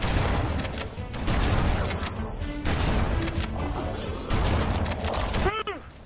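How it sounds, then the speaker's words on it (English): Shotgun fire rips through a hectic firefight in the video game Halo Anniversary: dense repeated heavy blasts and crashes over a constant battle din, with talk running underneath. "he has a shotgun behind me"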